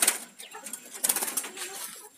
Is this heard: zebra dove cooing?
yes